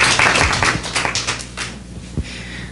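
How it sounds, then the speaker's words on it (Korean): A church congregation at a Wednesday worship service claps briefly, a burst of close, sharp hand claps that thins out and fades within a couple of seconds. "박수. 할렐루야."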